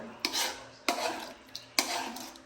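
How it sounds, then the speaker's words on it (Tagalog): A utensil stirs creamy spaghetti sauce in a pan, with three or four rhythmic scraping sweeps against the metal, close and clear, with a faint sizzle beneath and no talking. "Mix your sauce all together."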